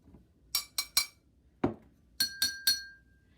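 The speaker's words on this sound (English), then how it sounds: "The more water placed in the glass, the lower the sound." Several bright clinks struck on glasses filled with different water levels, a quick run of three, a duller knock, then three more ringing tones that hang briefly in a quiet room.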